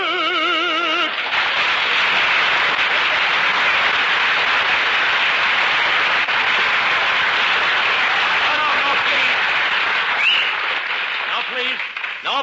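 Sustained studio audience applause from 1947, dense steady clapping that fills the whole stretch before trailing off at the end.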